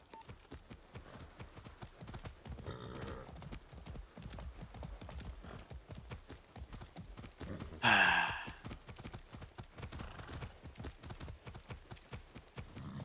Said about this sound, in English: Oh my god, the horse!